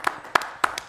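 A comedian's few handclaps trying to start applause on a podcast, three or four sharp claps spaced unevenly in quick succession, close and alone.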